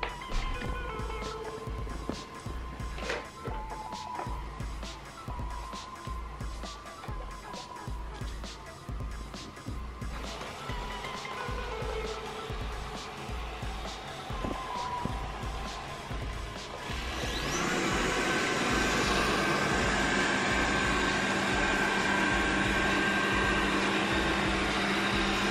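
A Xiaomi S10+ robot vacuum cleaner driving and cleaning through a room, a steady motor whir with bumps and clicks, swelling to a louder, denser suction roar in the last stretch.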